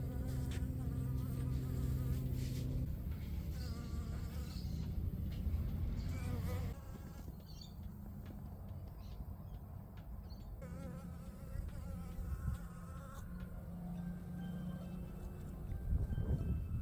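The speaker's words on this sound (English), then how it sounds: "enjoy the footage of the blue banded bees using the new houses" Blue banded bees buzz around new bee houses in a garden, a steady layered insect drone close by with fluctuating pitches as bees come and go, loudest in the opening seconds and again near the end.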